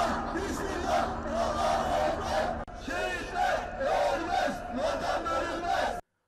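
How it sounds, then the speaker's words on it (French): An angry pro-Erdogan crowd boos and jeers at accused men as soldiers escort them from a vehicle. The loud, sustained roar of many voices rises and falls in waves. "Ils sont hués par la foule."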